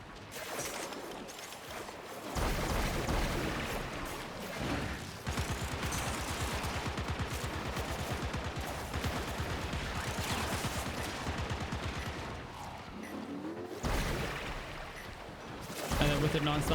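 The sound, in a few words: gunfire in the video game Warframe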